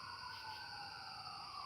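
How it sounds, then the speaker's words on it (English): Crickets chirping at night in a steady, continuous high-pitched drone, faint and distant, with a far-off siren tone faintly present underneath. "I could make a CD with the crickets and sell it."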